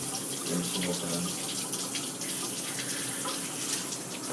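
Shower water pours steadily from the showerhead, a close, continuous broadband hiss and splatter with no breaks over the whole stretch.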